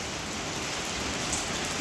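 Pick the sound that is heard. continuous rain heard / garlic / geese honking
continuous rain heard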